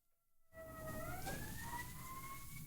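A wailing emergency siren rises and sweeps in pitch, with several layered tones over a low rumble, fading in after a short silence and holding steady at moderate loudness, alone without speech.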